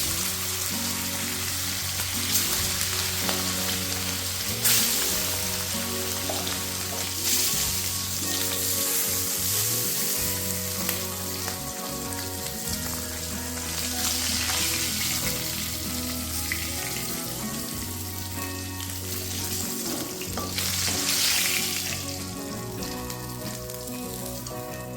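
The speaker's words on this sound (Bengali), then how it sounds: "তো এখন আমি একইভাবে বাকি মাছগুলোকেও ভেজে নেব।" Pieces of sea tuna fish fry in hot oil with a steady, dense sizzle and crackle, close and fairly loud, continuing unbroken with no talking.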